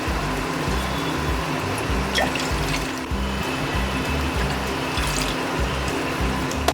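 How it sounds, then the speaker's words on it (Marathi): Water poured into two small bowls while making modak dough in a home kitchen: a steady, unbroken trickling stream that stays close and fairly loud throughout, with no talking. "इथे बघा मी छोट्या 2 वाट्या पाणी घेते"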